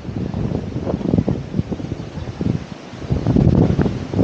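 Strong wind buffets the microphone during a morning bike ride near the Aurora and Quezon province boundary bridge, giving loud, uneven low gusty bursts and flutters that swell and fade through the whole stretch, with no speech.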